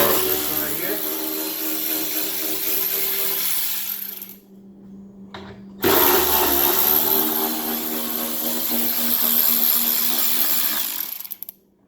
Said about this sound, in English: we need to go ahead and take off the carbon fiber cover using a 10 millimeter.